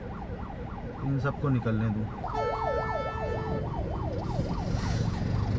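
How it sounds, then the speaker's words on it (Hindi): Wailing ambulance siren cycling up and down from behind a stalled traffic jam, moderately loud over engine and road rumble, while someone speaks nearby. "और पीछे एम्बुलेंस की आवाज़ आ रही है"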